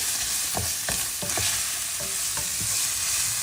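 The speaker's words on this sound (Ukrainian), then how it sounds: "Перемішуємо." Zucchini pasta sauce sizzling steadily in a frying pan, with a series of clear scraping stirs of a utensil against the pan spread across the clip; no talking.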